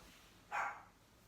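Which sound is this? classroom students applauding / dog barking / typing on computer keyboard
dog barking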